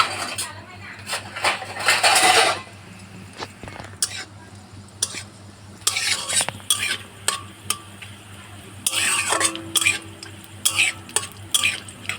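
Whole spices, cinnamon and cumin seeds, fry in a pan with a soft sizzle while a spoon stirs and scrapes against the metal in bursts of clinks and scratches.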